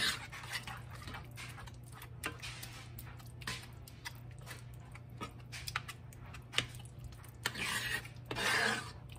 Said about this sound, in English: It takes a minute to get those refried beans mixed in, but you want to incorporate them good with that salsa in your mixture.